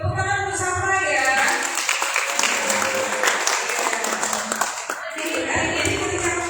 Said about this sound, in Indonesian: Oke, tepuk tangan bersama ya.